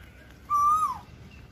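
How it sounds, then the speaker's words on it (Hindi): An Asian koel calls outdoors in the early morning: a single clear whistled note that holds steady and then slides downward, moderately near, over quiet background. "कोयल कितनी अच्छी बोल रही है"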